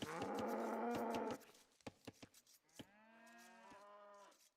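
Cattle in the Age of Empires II video game, with two close, clear moos separated by soft clicks and short game sound effects, no voices heard.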